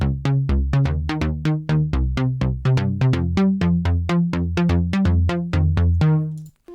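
A layered synth bass line pulses in a steady rhythm of short, punchy notes, heard alone and close, ending with a held final note that fades out.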